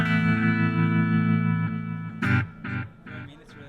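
An electric guitar plays through a Positive Grid Spark amp with stereo reverb: a sustained distorted chord rings and fades, then a few choppy strummed hits follow with reverb tails.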